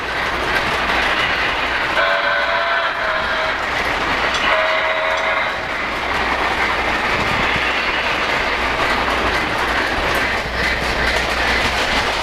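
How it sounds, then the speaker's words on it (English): Three model trains plus a trolley, including a Polar Express set with a bell, run steadily on track with continuous rolling clatter and clicking wheels, a soft whistle-like tone sounding briefly, close and fairly loud. "So we've got three trains plus the trolley running simultaneously."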